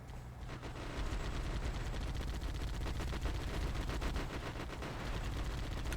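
Rapid, continuous gunfire from an allied fighter in a Halo mod fills the scene with dense automatic shots that rattle on without pause, loud and close.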